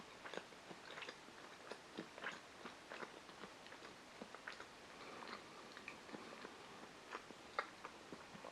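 A piece of soft Pan Ducale panettone studded with sultanas is chewed close up, with quiet, irregular moist bites and soft crunches repeating throughout, no talking.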